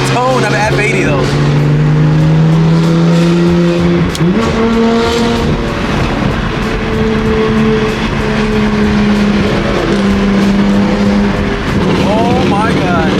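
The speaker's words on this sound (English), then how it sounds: "It's crazy how like an exhaust changes the whole tone of an F80 though." A BMW M3 F80 fitted with an aftermarket exhaust drones loudly and steadily, its engine pitch climbing and shifting through revs. A person talks over the constant, close engine note.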